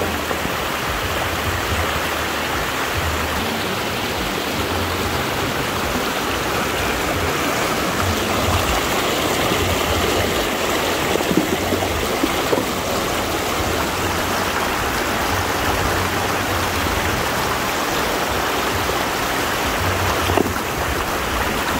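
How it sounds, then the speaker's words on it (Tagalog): Powerful rushing water roars steadily and loudly throughout, a dense, unbroken torrent with no voices. "Napakalakas ang tubig."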